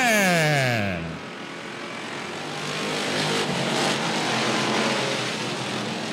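Race cars at Cotton Bowl Speedway roar past under a green flag: one loud car sweeps by with a falling engine pitch, then a dense, continuous drone of many engines from the field follows.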